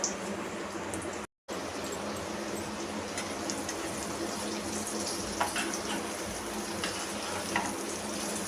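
Potatoes frying in hot oil in a wok, giving a steady, dense sizzle with occasional crackles and pops that carries on throughout after one brief dropout near the start.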